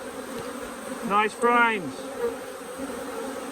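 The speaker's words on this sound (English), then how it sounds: "And my word, there's some bees on these." Honey bees swarm over brood frames lifted from a hive, buzzing in two short bursts that rise above a steady background hum, with a brief spoken comment.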